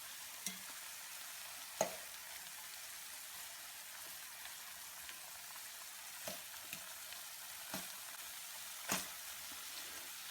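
Chicken pieces for a gluten-free, dairy-free biryani fry in a pan, giving a steady, close sizzle with a few sharp clanks and scrapes as they are stirred and flipped. No one speaks.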